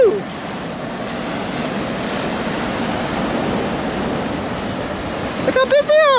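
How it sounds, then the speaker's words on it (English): Big ocean waves crash and wash into a parking lot, making a loud, steady roar of surf that fills the whole stretch, with a voice breaking in near the end. "Those waves are huge."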